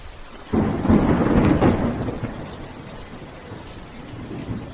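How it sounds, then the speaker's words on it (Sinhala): A deep roll of thunder rumbles over steady heavy rain, swelling loud then fading back into the constant downpour. "මහත්තයාගේ කුඩේට ඔරොත්තු දෙන්න නෑ මේ වැස්ස."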